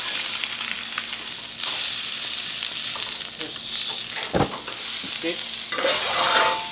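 Fish sizzles hard as it is seared over strong heat in a pan, a loud continuous frying hiss with scraping and stirring strokes and a sharp clack partway through.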